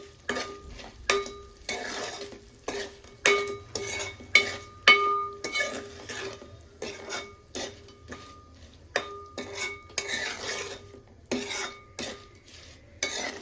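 A pan of fried dried fish is stirred with a metal spoon, giving repeated scraping clinks and light sizzling in a steady rhythm. The sound is close and clear, and nobody speaks.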